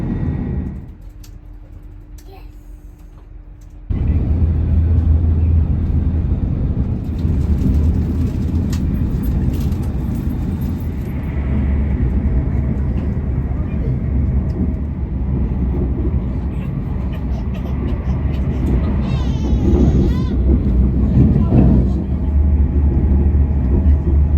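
Loud, steady rumble of a Hull Trains train moving along the tracks through the Lincolnshire countryside, heard from inside a first-class carriage, with shifting rattles and a brief tonal chime partway through.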